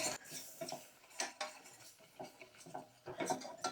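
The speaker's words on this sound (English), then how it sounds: "I'm going to whisk that in, cook the flour for about 1 minute or 2" A whisk scraping and clattering against a pan as flour is stirred into a roux, in quick irregular bursts of metallic rubbing close by.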